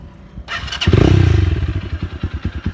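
A KPR 200 motorcycle fitted with an M4 exhaust starts up close by: one starter crank, then the engine catches into a loud, throbbing idle with a steady pulsing beat.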